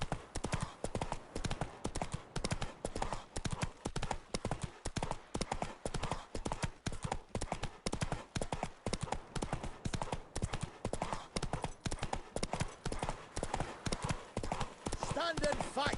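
Roach, the horse in The Witcher 3, gallops in a fast, relentless rhythm of hoofbeats, loud and close throughout.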